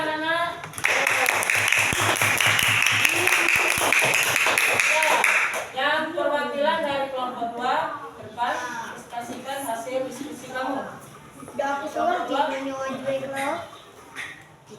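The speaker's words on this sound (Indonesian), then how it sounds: "Tepuk tangan anak-anak." Schoolchildren clapping their hands together in a classroom, a loud dense burst of claps for about five seconds, followed by a teacher talking.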